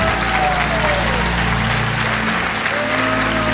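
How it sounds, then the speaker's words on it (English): An audience claps steadily and loudly, honouring a woman who turned a tragic situation around, with a low crowd rumble and faint tonal whistling underneath throughout. "I want you to give her a great big hand clap."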